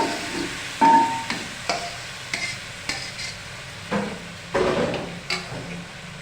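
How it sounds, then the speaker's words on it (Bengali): Onion frying in a pan for a village-style chicken curry, with a spoon scraping and stirring in repeated bursts over a soft, continuous sizzle, close and fairly clear, no talking. "পেঁয়াজটা হালকা লাল করে ভাজা হয়ে গেছে"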